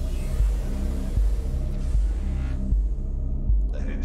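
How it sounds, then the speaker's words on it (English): The Cyclops submarine's engine powers up in the game Subnautica with a deep, rhythmic throbbing hum, pulsing roughly every 0.8 seconds, loud and alone, with no talking over it. "Engine powering up."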